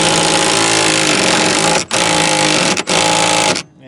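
A power tool whirs loudly up close as it backs a Torx bolt out of a Jeep Wrangler TJ seat, running in three long bursts cut by brief pauses, then stopping.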